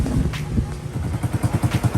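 A Yamaha Sniper 150 motorcycle engine is test-run after a repair and parts installation, settling into a close, steady, pulsing idle with rhythmic low thumps and light mechanical clatter.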